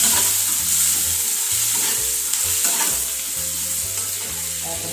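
Tomatoes fry in a pan while being stirred, giving a loud, steady sizzle close by, broken by regular scraping strokes of the spoon.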